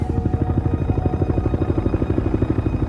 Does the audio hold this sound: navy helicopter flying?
yes